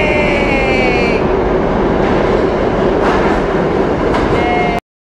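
A subway train rumbles loudly and steadily as it pulls into the station, with high metallic squeals from the wheels and brief clacks over the track.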